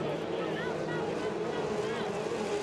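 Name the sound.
F2500 racing powerboat engine accelerating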